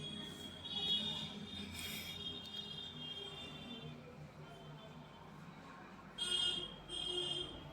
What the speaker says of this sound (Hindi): तब तक के लिए टाइमर लगाया जाता है।